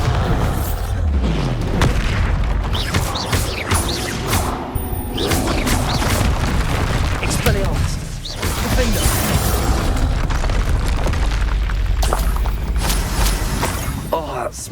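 Spell blasts and booming explosions from a Hogwarts Legacy duel, heavy crashes and thuds repeating throughout a dense, loud battle mix, with voices calling out over the combat.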